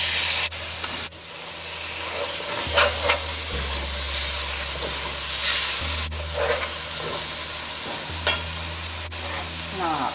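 Cut-up lamb meat sizzles and fries in masala for a Pachownie, with continuous crackling, a loud steady hiss and repeated stirring scrapes throughout, close up and without talk.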